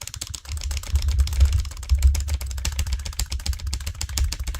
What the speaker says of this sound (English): you can hear me aggressively tapping my keyboard already.